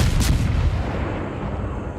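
Naval guns of the destroyer Blyskawica in World of Warships fire in a deep booming blast that rolls into a long rumbling decay, loud and close with no talk.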